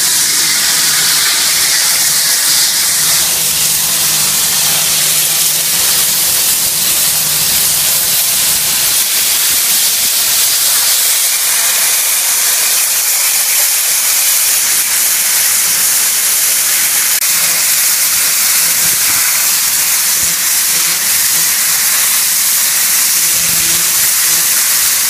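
A 38,000 PSI high-pressure washer blasts pavers and walls outdoors in Miami, giving a steady, loud, unbroken roaring hiss that runs without a pause.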